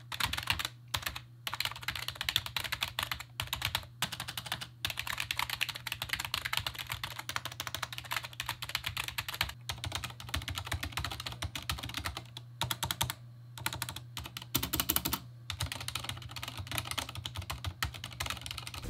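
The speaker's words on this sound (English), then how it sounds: "this keyboard up here is actually a mechanical keyboard that has Cherry MX silent keys in it" Steady, rapid typing on a mechanical keyboard fitted with Cherry MX silent switches, a dense close patter of muted key presses with a few brief pauses, heard alone without speech.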